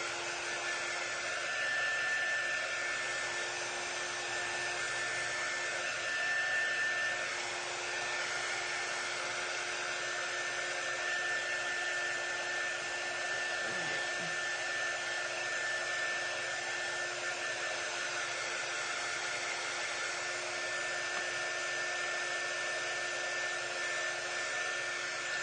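A hair dryer blows steadily and continuously on a laundry craft, a constant whirring whine holding at one level for the whole stretch with no speech.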